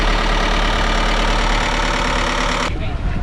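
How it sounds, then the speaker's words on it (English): A sailboat's inboard engine runs steadily at a loud, even drone while its throttle and RPM are being controlled, with the high end thinning out abruptly near the end. "I'll show you how we're giving it some throttle and controlling the RPM."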